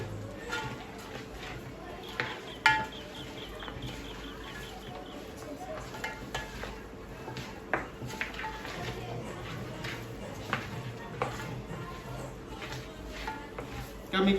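A spoon stirs chilli into a mutton biryani masala in a pan, with soft scraping and faint sizzling that stay quiet under a person talking.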